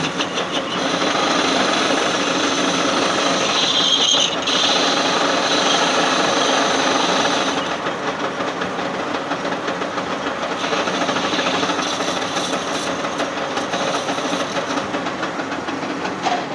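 A model 1D601 lathe turns a faceplate with a 2 mm cut, producing a loud, steady mechanical whir and rattle with fine chattering texture that eases slightly partway through, with no talk.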